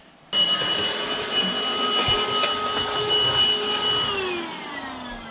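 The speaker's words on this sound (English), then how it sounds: "Good thing we have a vacuum." A vacuum cleaner switches on abruptly and runs with a steady, loud whine and roar, its pitch dipping slightly near the end.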